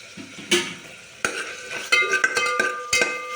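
Ginger garlic paste sizzles in olive oil in a pressure cooker as a spoon stirs it, with a soft frying hiss and a series of close, sharp metallic scrapes and clinks.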